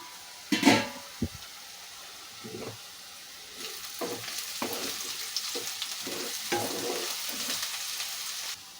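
Taro root pieces fry in a covered pan, a soft steady sizzle broken by occasional stirring clatter and scrapes, close and moderately quiet.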